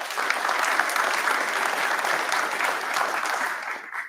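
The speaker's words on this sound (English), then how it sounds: "So round of applause for Nick." An audience at a governor's bill-signing event gives sustained applause lasting several seconds, steady and fairly loud before tapering off at the end.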